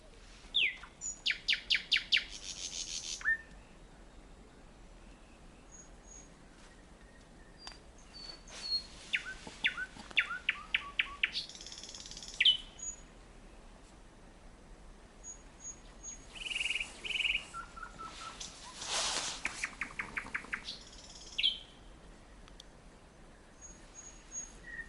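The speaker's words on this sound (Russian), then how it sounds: "Красиво поют птички, да? И вот так всю ночь." Wild birds sing at night in remote countryside: scattered bursts of rapid chirps and short trills that stop and start over a quiet, steady background, fairly close but soft.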